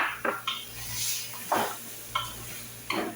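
Tomatoes hit a hot pan and sizzle, with several sharp scrapes and clinks of a stirring utensil against the pan over a steady frying hiss.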